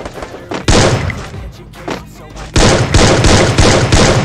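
Video game gunfire, with a 12-gauge shotgun among the weapons, cracks out in loud, close bursts: a few separate blasts, then a rapid run of heavy shots, with gamers talking between them.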